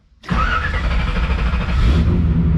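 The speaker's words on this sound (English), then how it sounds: "we're gonna turn the car on" A 1970 Chevrolet Chevelle engine cranks and fires up loud and close after a brief quiet start, then settles into a rough, rumbling run that grows slightly heavier near the end.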